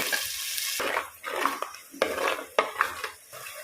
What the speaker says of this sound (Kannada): ಈ ಗ್ರೈಂಡ್ ಮಾಡಿಟ್ಟಂಥ ಮಸಾಲೆಯನ್ನು ಸೇರಿಸಿ ಇದನ್ನು ಒಳ್ಳೆ ಫ್ರೈ ಮಾಡಬೇಕು